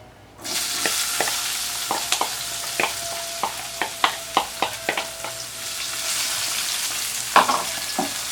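Bell pepper for a filling sautés in a pan, a constant sizzle broken by a quick run of sharp spoon clicks and scrapes against the pan, with no voices.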